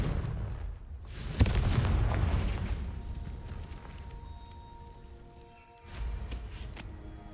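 Blasts from the Confringo fire spell in Hogwarts Legacy, a booming burst with a sharp crack followed by a rumbling tail, then a second thump later, amid clanking magical combat effects.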